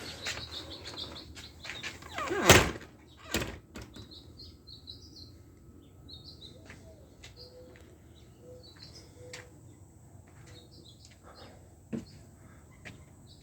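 Small birds chirp and tweet at a backyard bird feeder, scattered faint calls over a quiet outdoor background, with a couple of louder knocks and a door-like slide near the start.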